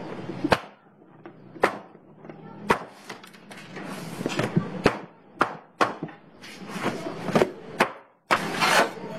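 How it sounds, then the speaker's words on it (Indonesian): Baking tin of soft potato sandwich bread, fresh from the oven, banged down hard again and again to stop it shrinking, loud sharp knocks at uneven intervals with rattling in between, close up. "Kita hentak-hentakkan loyangnya agar tidak menyusut"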